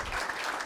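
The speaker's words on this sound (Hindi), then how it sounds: "खड़े होकर ज़ोरदार तालियां बजाई जाए" A standing audience gives a brief, dense burst of applause at a May Day (Shramik Diwas) social evening and dinner, steady and fairly close throughout.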